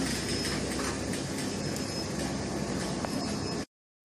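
Steady rumbling and rattling of cable car cabins arriving on a cable line in Druskininkai, loud and continuous, then cutting to silence near the end.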